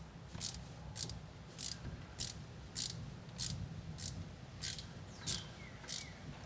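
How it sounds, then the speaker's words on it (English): A steady series of about ten sharp metallic ratchet clicks, evenly spaced, comes from threading studs back into the PTU of a Ford Bronco Sport Badlands, close and clear over a low background hum. "we can go ahead and thread these studs back in"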